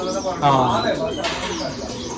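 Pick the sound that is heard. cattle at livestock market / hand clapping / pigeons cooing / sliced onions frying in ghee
pigeons cooing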